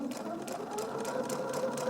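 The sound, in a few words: sewing machine stitching quilt triangles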